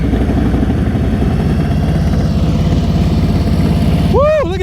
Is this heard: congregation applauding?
no